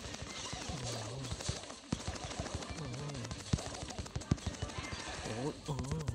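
Rapid gunfire bursts in the Brawl Stars video game, quick clattering shots in uneven volleys, mixed with game music and an excited voice talking over them.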